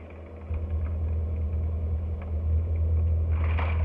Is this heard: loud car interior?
yes